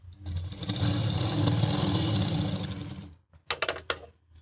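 A sewing machine stitches tucks into a blouse in a continuous rapid whirring run of about three seconds, then stops, followed by a few brief clicks and taps.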